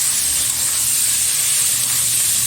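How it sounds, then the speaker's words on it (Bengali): Pieces of chicken fry in butter in a pan, giving off a steady, close, bright sizzle and hiss with no pauses. "এবার ছেড়ে দিচ্ছি বাটারের মধ্যে, হালকাভাবে একটু ভেজে নেবো 2 মিনিট মতো।"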